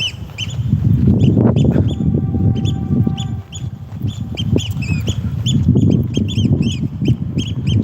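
A bird calls outdoors during a morning walk, a series of short chirps and tweets repeating above a steady rumble of wind and walking noise, fairly faint against the background.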